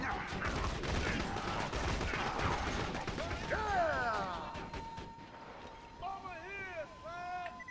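Rapid pistol gunfire with slag elemental damage in a video game, sharp shots in quick bursts under steady talking, fading into scattered ringing, chiming effects toward the end.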